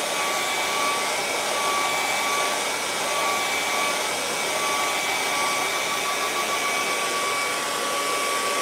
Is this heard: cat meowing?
no